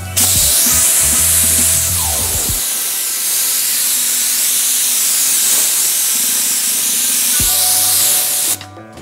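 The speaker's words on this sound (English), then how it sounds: "I'm about 2 or 3 inches, and I'm just gonna go up and down." A paint spray gun hisses continuously as a base coat is applied from a few inches away, a loud, steady spray sound with a motor-like hum before it starts and after it stops.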